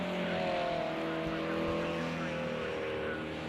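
BMW M1 Group A race cars at Silverstone International make a loud, sustained engine roar with a steady high whine, close and continuous as they pass. A commentator's voice is heard over the engines.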